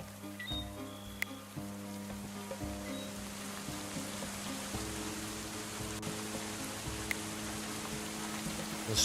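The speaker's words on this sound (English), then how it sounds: "Why is it always raining?" Steady rain falls in a fortress-building survival video game, a continuous even hiss with faint pattering under a low droning tone, with no voices.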